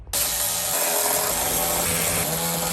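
A power tool runs continuously while 8mm bolts are removed from the lower rocker panel of a Mercedes W140 S-Class, a loud steady whir starting abruptly and holding close throughout.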